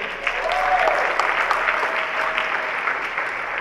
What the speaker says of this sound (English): Please give a big round of applause for all our judges.